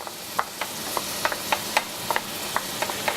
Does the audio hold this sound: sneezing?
no